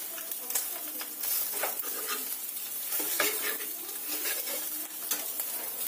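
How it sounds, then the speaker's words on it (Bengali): An egg sizzles in a hot pan while a utensil scrapes and stirs against the metal in quick, irregular strokes, close and moderately loud. "আমার ডিমটা ভাজা হয়ে গেছে"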